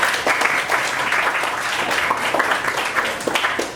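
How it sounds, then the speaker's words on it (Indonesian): A class of students clapping for their classmates' groups in a school lesson, dense steady applause filling the room at close range throughout, with no clear speech over it. "beri tepuk tangan untuk semua kelompok ya"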